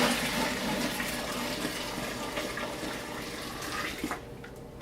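Sparge water pours from a homebrew kettle without a valve into a vessel, a steady close splashing gush of hot water that runs for several seconds before easing off.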